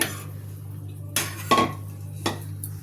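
A spoon clinks and scrapes against a pot as gram flour and rice flour are mixed together off the heat, giving a few distinct metallic knocks over a steady low hum.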